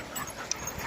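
A playful, very vocal dog gives a brief, soft whimper during play, one short yelp-like cry close by over faint background noise.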